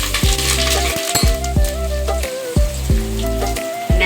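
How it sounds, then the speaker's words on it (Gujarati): Dried chillies and curry leaves hit hot oil with cumin, a loud steady sizzle and crackle up close, with sharp popping spits scattered throughout. "જીરો નાખશું એની અંદર। સૂકા મરચા નાખશું, થોડાક લીમડાના પાન નાખશું"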